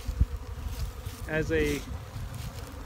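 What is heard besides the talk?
honey bees swarming open dry feed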